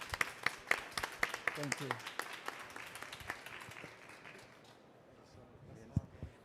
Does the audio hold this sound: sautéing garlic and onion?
no